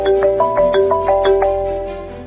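A mobile phone ringtone plays a bright, repeating chime melody for an incoming call from the boss in a government office, loud and close with no talking.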